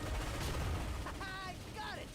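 Cannon fire in the Ratchet & Clank video game, a dense rumbling burst of blasts and mechanical booms with a voice speaking over the tail.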